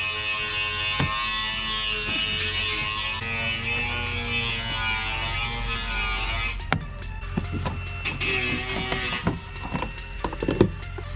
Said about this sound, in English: I'm sorry for the grinder.